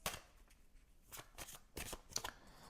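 Oracle cards are shuffled in a handful of quick riffling bursts, crisp papery flutters with short pauses between them, fairly close but quiet, with no talking.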